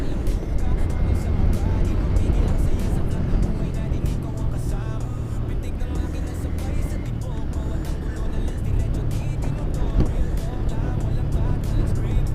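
Light vehicles travel along the Magallanes bypass road near a flyover, producing a continuous rumbling traffic roar with passing engine swells, loud and steady throughout.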